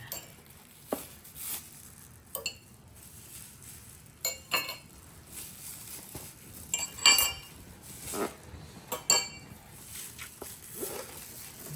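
Small metal teaspoons and their stand being unpacked from new crockery, giving scattered light clinks and taps spaced through the clip, with faint rustling between them.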